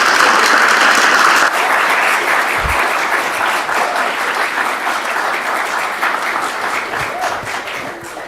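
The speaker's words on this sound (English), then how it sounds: "let's give Kelsey one more big round of applause." Sustained audience applause at the close of a monthly astronomy lecture, a dense steady wash of many hands clapping that stays loud throughout with no talk over it.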